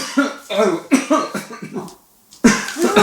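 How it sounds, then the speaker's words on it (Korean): An elderly man's persistent, week-long cough: several harsh, chesty coughs in a quick series, then a pause, then another loud burst of coughing close to the listener. "당신 웬 기침을 그렇게 해요?"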